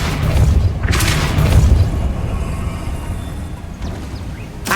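A Depulso spell blast in the Hogwarts Legacy video game, a loud booming burst near the start with a rushing magical swell, fading into a lower rumble and a softer second whoosh near the end.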